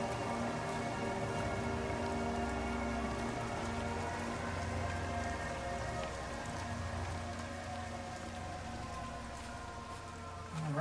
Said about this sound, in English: The rain's giving in, that's something.